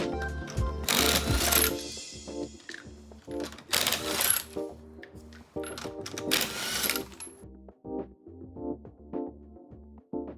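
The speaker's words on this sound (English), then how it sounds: "After loosening up the lug nuts with a breaker bar, I use my impact driver to help get them off." A cordless impact driver removes rear lug nuts from a 1994–2004 New Edge SN95 Ford Mustang in three loud, close hammering bursts. Quieter mechanical clicks fill the gaps between bursts.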